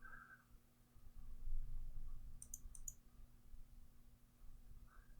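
Sharp clicking from the 1992 Sierra adventure game King's Quest VI: a few faint, quick ticks in a short cluster over a quiet low hum.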